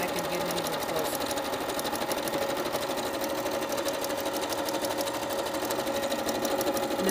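A sewing machine runs continuously and fast at close range, stitching an appliqué satin stitch with a dense, even mechanical whir, and a voice speaks briefly underneath.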